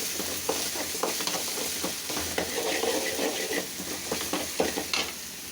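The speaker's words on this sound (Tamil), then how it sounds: "பச்சை வாசனை போகிற வரைக்கும் வதக்கலாம்." Ginger-garlic paste fries for a bamboo shoot stir-fry in a pan, a continuous sizzle with repeated scraping strokes of a spatula stirring at close range.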